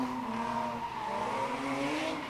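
A loud drift car at a test and tune day screams through a slide, engine droning high with tires squealing continuously, close and overpowering for the whole short stretch.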